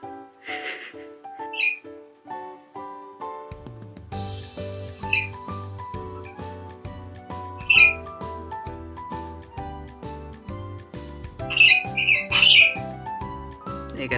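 Pet parrots at home give sharp, scattered squawks and calls, some in quick clusters, over a quiet background of steady music.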